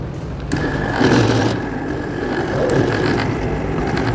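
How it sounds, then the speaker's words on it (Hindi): A mixer grinder whirs loudly as it purees boiled rice with milk for rice kheer, a steady buzzing motor drone that runs continuously throughout. "दूध के साथ हम इसको ग्राइंड कर रहे हैं।"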